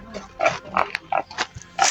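A pig grunts repeatedly at close range, a string of short, uneven snorts and squeals in an irregular rhythm, with no talk over it.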